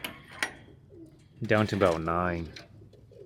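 Young homing pigeons cooing at a loft, a soft burst of throaty coos near the middle with a few faint calls around it, heard under occasional quiet speech.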